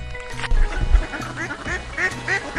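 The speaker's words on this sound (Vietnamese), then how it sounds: "Con ngan." A muscovy duck gives a quick run of nasal quacks, close and clear, several short calls in a row after a brief rustling start.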